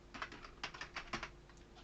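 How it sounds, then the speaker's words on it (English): Fingers type a word on a computer keyboard, a quick uneven run of light clicking keystrokes, close and clear with no voices. "so I'll type that in,"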